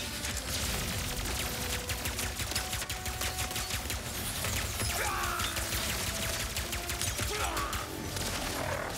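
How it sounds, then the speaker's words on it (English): Level 2 burst pistol from Ratchet & Clank Rift Apart fires in rapid staccato bursts. The shots come dense and loud amid chaotic battle noise and crashes, with no talking. "Burst pistol, level 2."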